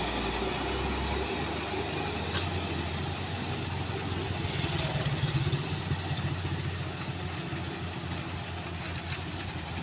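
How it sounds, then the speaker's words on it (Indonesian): A heavily loaded Colt diesel (Colisol) truck climbs the steep Kedabuan incline on the Sumatra–Aceh route, its engine droning loud and steady under full throttle, with continuous broadband road and mechanical rumble throughout. "mobil Colisol ini langsung mendaki di tanjakan Kedabuan bosku"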